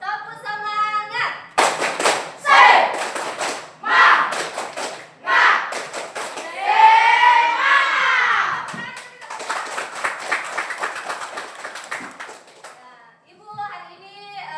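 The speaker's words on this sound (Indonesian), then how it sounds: "Kita tepuk semangat dulu." Children do a rhythmic 'tepuk semangat' spirit clap in class, with patterned bursts of close hand claps and thumps interleaved with chanted young voices, pausing briefly near the end.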